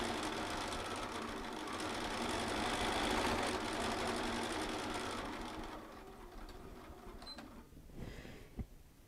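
A Bernina sewing machine runs steadily with a dense mechanical whir, fairly loud and continuous, then slows and stops near the end with a few small clicks.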